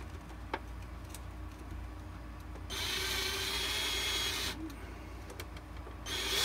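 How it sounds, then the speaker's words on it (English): A power drill bores through three stacked pieces of plastic Shadow Trooper armor, a steady close whine running for about two seconds, then stopping and starting again briefly, with faint ticks and handling clicks around it. "I'm going to hold this in place as I try to drill through all 3 pieces of plastic"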